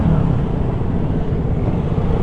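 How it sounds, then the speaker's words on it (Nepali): A KTM Duke 200 motorcycle engine runs with a steady, loud low rumble, riding along continuously with no voices over it. "इन्जिन पड्किन्छ कि क्या जस्तो लाग्छ बाइकको आवाज सुन्दा"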